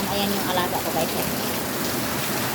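Heavy rain pours down in a dense, continuous hiss on surfaces, loud and steady throughout, with a person talking briefly over it near the start.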